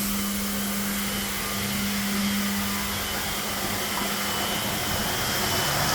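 CIP pump at a speed of at least 50 circulating liquid through hoses and fill valves, a steady loud whirring hum with a constant low tone, running alone without pause.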